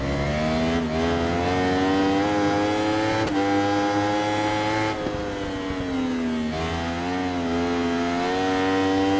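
Two identical Yamaha racing motorcycles in RIDE 3 hold a loud, steady high-revving engine whine, with pitch rising and dipping through gear changes and a sharp shift blip, racing side by side at Road America.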